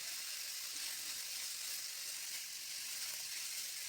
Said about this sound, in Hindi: अब 2 से 3 मिनट पकाने के बाद 100 ग्राम कटी हुई गाजर और 100 ग्राम कटी हुई शिमला मिर्च ऐड